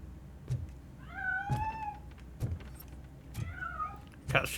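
A cat meows twice inside the Robocop Rogue City video game, with drawn-out rising and falling calls standing out over low game ambience and scattered clicks and thumps.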